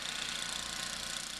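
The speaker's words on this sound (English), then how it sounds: "my husband is doing his thing with the snowblower" Snowblower running outdoors clearing a snowy road and driveways, a faint steady engine drone with a slight rhythmic pulse, distant and alone.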